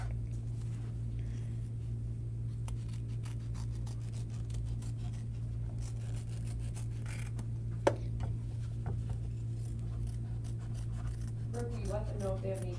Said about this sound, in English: I'm going to use my scissors to trim around the edges of my applique